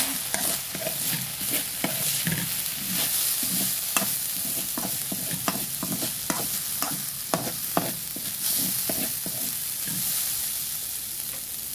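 Arroz caldo being stirred in a pot, with repeated scraping strokes at a steady rhythm over a continuous sizzle, close and moderately loud.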